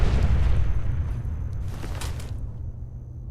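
A mini nuke explodes in a video game with a heavy, rumbling boom that starts loud and slowly fades over a few seconds into a low, lingering roar.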